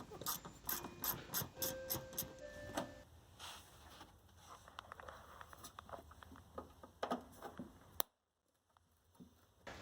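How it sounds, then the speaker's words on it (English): A ratchet clicks in quick, repeated bursts while removing 8mm bolts from the wheel liner of a 2004 Dodge 2500, faint and close, with scattered handling noises and a brief silence near the end. "Gotta take out these 8mm bolts."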